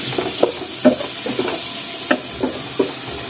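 Ginger-garlic paste, chili, turmeric and special spice mix being stirred and fried in a pan, with a steady sizzle under repeated scraping strokes of a spoon at irregular intervals, close and fairly loud, no talking.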